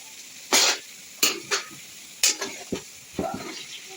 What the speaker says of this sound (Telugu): ఇదంతా బాగా మిక్స్ చేసుకోవాలి.